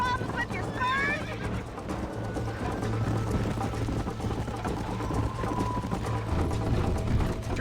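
Horse hooves clip-clop steadily in the Red Dead Redemption video game, with a short whinny near the start and a continuous background bed under the rhythmic hoofbeats.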